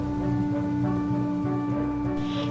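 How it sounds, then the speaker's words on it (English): A fierce storm pours steady rain with low rumbles of thunder, heard under a sustained tonal musical drone in an animated city-tram setting. "The storm was becoming more and more fierce."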